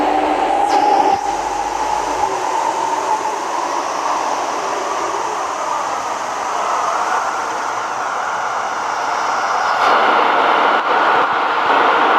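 A Hong Kong MTR Kwun Tong Line train pulls away from the platform, its motor whine rising and steady rumble building, then a whoosh of air as it speeds off.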